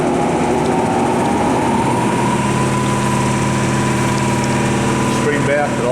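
A Sharp LMV-42 vertical knee milling machine runs at mid-range spindle speed, giving a steady, even mechanical hum with constant tonal whine throughout and no pauses.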